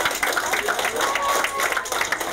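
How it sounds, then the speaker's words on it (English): Children in a library audience at a magic show clap for a volunteer, a brief, busy patter of small hands with a few brighter individual claps mixed in and faint voices underneath. "Everybody give Anna Marie a big round of applause."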